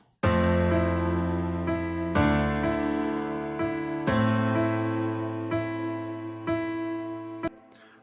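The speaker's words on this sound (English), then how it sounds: "Then I went ahead and played a piano melody to go along with the guitar" Piano melody played over a deep house guitar part, with chords struck every second or two and left to ring and decay, loud and full, ending in a final sharp hit.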